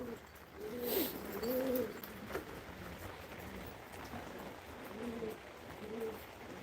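Turtle doves cooing in a garden: soft, repeated low coos in short rhythmic phrases, some fairly close and others fainter, against a quiet outdoor background.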